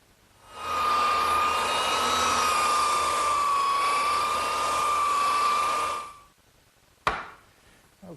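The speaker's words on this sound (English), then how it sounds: "now's the time for me to take my belt sander and smooth it out" A belt sander smooths the wooden top boards of a kitchen work table, a steady droning whir with a fixed tonal whine that ramps up, holds for several seconds, spins down, then a sharp knock follows.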